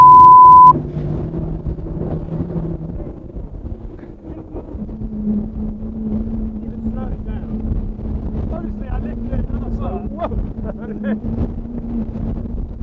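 Cobra Nautique 9.2m rigid inflatable boat launching at speed, its outboard engine droning steadily with shifting pitch under gusty wind buffeting the microphone, a brief tone at the start.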